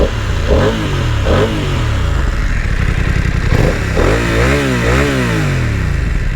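A Triumph F900R motorcycle with its stock exhaust revs repeatedly, close and loud, each throttle blip rising and falling in pitch over a steady mechanical idle, with no voices.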